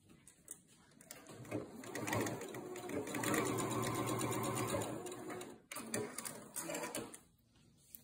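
A sewing machine stitches a seam through fabric with foam inside, running in a steady whirring burst that pauses briefly and starts again, close and fairly quiet.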